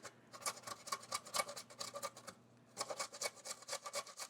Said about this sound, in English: You're going to grate it on your grater.